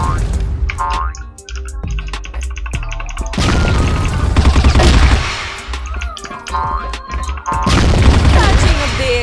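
A grenade explodes in the first-person shooter CrossFire, heard as loud booms and crashes amid a dense, busy mix of gunfire and metallic game effects.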